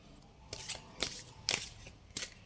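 A deck of tarot-style cards being shuffled by hand, a few quiet, close riffling bursts spaced roughly half a second apart, crisp and papery against a quiet room.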